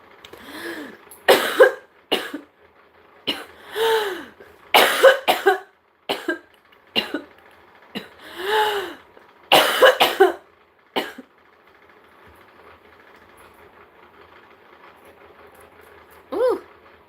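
Repeated coughing from a person with chronic illness and a J-tube, in harsh bursts with strained breaths between, close and fairly loud, then a quiet stretch ending in one more short cough.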